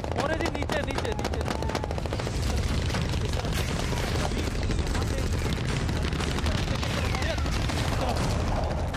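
Sustained rifle fire from Afghan army soldiers in battle crackles continuously, dense rapid bursts heard at a moderate distance with a voice talking over them.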